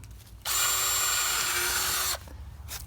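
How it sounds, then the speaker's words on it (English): A power drill whines at high speed into wood for under two seconds, loud and close, then stops, leaving a faint background hum. "now you can see the 4 areas that we're gonna drill into"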